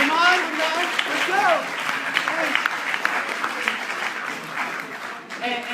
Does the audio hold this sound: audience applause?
yes